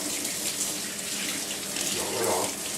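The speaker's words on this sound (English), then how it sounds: "let me wash off this spoon so we can add our extra" A spoon being rinsed under a running kitchen tap, with a steady close rush of water that swells briefly near the end, and no talk.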